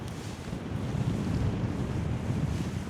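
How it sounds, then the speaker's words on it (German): Strong wind buffets the microphone at a paragliding launch site in the Bavarian Forest, a loud, steady roaring rumble that lasts the whole time with no talking. "Ein Wind ist da, ist ja brutal."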